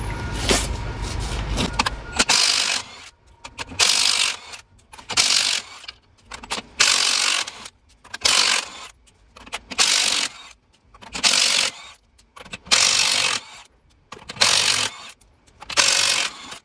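A Milwaukee half-inch impact gun rattles off wheel nuts on a Mercedes truck during a brake pad change, about seven loud, close bursts of hammering separated by short pauses.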